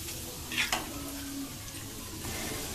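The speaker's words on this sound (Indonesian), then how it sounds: "Kita goreng sampai kekuningan atau sampai matang." Onde-onde dough balls fry in oil over medium-low heat, giving a soft steady sizzle with a few brief splashy bursts near the start.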